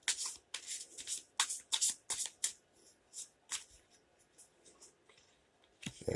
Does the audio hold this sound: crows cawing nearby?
no